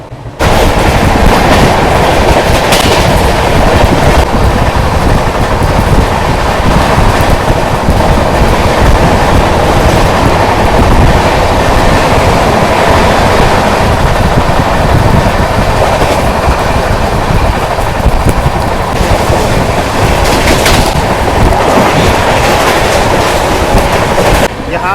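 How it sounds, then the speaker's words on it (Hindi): The Garib Rath Express (12436 Anand Vihar–Jaynagar) picks up speed past Tundla Junction, a loud continuous rumble of wheels on rails with rattling clatter, heard close from inside the train. "यहाँ Tundla junction railway station skip करते साथ ही हमारी ट्रेन वापस रफ्तार पकड़ने लगी है।"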